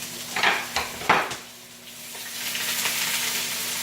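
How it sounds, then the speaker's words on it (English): White onions sautéing in an overly hot pan, a steady broadband sizzle with a few louder stirring scrapes and clatters near the start, then a softer continuous hiss. "Get that brown in here, that sizzle."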